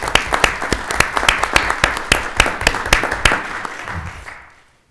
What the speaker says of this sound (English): Let's give a round of applause to Mr. Warner.